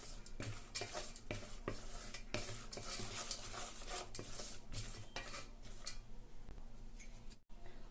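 A spoon stirs a sweet coconut and jaggery mixture for kozhukattai in a pan, giving repeated scraping clatters in a steady rhythm, close and fairly quiet, with no talk.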